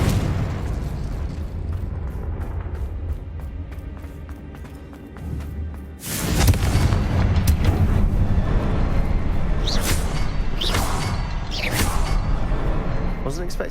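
A Confringo explosive spell bursting in the video game Hogwarts Legacy, a sudden loud boom at about six seconds followed by a sustained rumbling roar with scattered crackles and bright hissing flares, over a busy game soundscape.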